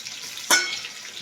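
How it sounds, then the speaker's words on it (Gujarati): A sudden hissing burst erupts as mustard seeds and two chillies hit hot oil for a cabbage sabzi, then fades into a soft, steady sizzle up close with no talking. "તેલમાં રાઈ મરચાં બે નાખ્યા છે"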